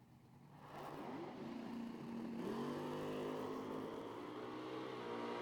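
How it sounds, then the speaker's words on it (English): A first-generation Camaro makes a solo drag-strip pass at a summer drag racing shootout. Its engine note swells from quiet into a loud, sustained roar that climbs in pitch through the gears as the car accelerates away. "First gen Camaro in the right lane on a solo pass"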